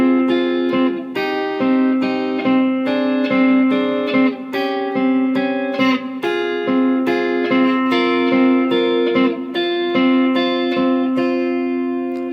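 An electric guitar in standard tuning plays the intro of a rock song, picked notes over a sustained bass tone, steady and clear with no voices.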